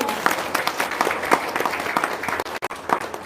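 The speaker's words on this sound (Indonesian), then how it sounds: "Tepuk tangan dulu dong." An audience in a seminar hall applauding on request, a burst of loose clapping from a modest crowd that thins out briefly near the end.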